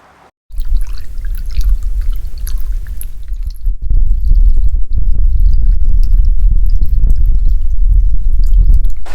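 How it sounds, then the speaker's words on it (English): An audio recorder with its lid off, thrown into a river, records water flooding its inside: a loud, muffled, continuous gurgling wash with a brief dropout partway, and no voices. "throw it in the river just like this with the lid off and everything, so that the inside just completely floods with water"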